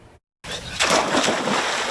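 Water splashing in an outdoor swimming pool in summer, a broad watery rush that starts after a brief silence and stays steady and fairly loud to the end.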